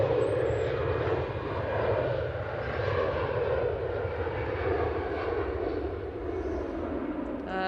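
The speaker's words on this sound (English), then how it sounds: "EasyJet A320 up to Lisbon." An EasyJet Airbus A320 jet departing Manchester Airport for Lisbon gives a loud, sustained rumbling roar, steady and close, holding at full strength throughout with no voices.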